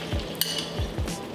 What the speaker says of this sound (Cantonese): 加少少油落鑊，開中火加熱，將蛋汁倒入鍋中